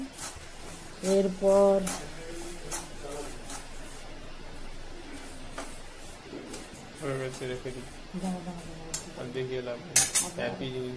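A spatula stirs rice through hot salt in a wok to make puffed rice, giving bursts of metallic scraping and clinking that come and go, with a person talking between the strokes.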